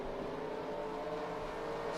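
Race cars roaring steadily around the Bristol track under caution as the field laps the pace car, a continuous mid-level engine drone with no clear pass-by peak.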